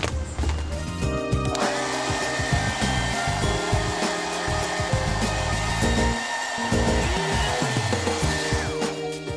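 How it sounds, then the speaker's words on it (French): A hair dryer roars steadily for several seconds, blowing caked dust out of a computer, with clattering and handling noises underneath. "Ouais, on va y aller au sèche-cheveux."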